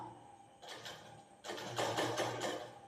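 A sewing machine sews a half-inch elastic onto a knicker, running in two close bursts of quick, steady stitching with a short pause between them.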